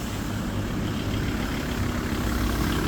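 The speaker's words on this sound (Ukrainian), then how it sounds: "подивіться в якому стані двигун. Чисто робота. Чисто працює" A Volkswagen LT van's diesel engine idles steadily with a low, even rumble. It runs close and continuous, with no voices.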